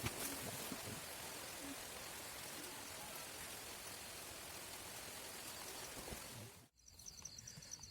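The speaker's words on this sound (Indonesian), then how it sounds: "Hujannya makin gede, guys." Heavy, steady rain pours down at a campsite at Ranca Cangkuang in Ciwidey, a dense even hiss that cuts out abruptly near the end.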